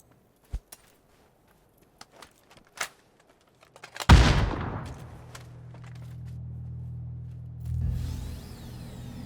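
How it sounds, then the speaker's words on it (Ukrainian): Gunfire in PUBG: a few scattered distant shots, then a loud close burst with a reverberating tail, followed by a low engine drone and more faint shots. "А, вже ззаді стріляють."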